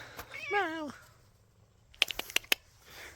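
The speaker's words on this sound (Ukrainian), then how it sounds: "якби кіт не м'явкав" A cat meows once in a long, wavering cry, close by, followed by a few sharp clicks and knocks.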